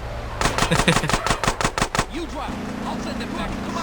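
Gunfire in GTA San Andreas Trilogy Definitive Edition: a rapid burst of about a dozen sharp automatic shots, loud and close, followed by engine and game noise as players talk over it.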